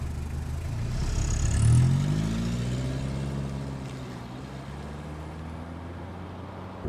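A 1992 Toyota Corolla AWD diesel wagon is heard on the move, its engine droning as it accelerates and then easing to a steady cruise, with road noise underneath, from inside the cabin.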